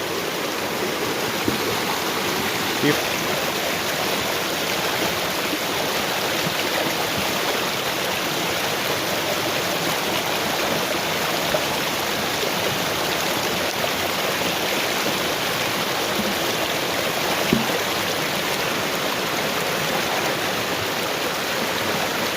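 Water pours from a bucket onto a gold classifier at a gravel bar, making a loud, steady rushing splash that continues unbroken, with a few faint knocks in the flow.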